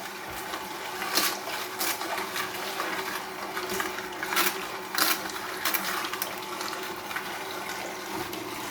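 A Tribest Slowstar slow juicer runs while juicing produce with an arm resting on the pusher: a steady motor drone with a low hum and intermittent crunching and squeaking bursts, close by and with no talk.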